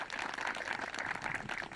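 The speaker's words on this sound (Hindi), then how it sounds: "जोरदार तालियां विशेषज्ञों के लिए" An audience applauds experts at a farmers' question forum on paddy cultivation, giving a steady, fairly distant patter of many hands clapping without a break.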